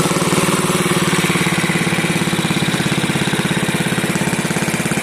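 A Bolens garden tractor engine idles at the end of a tractor show, a loud, steady, rapidly pulsing putter up close that holds level throughout with no voices over it.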